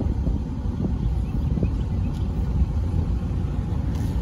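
A 1969 VW Beetle convertible driving around a neighborhood, its engine producing a steady low rumble mixed with wind noise, continuous and fairly close throughout.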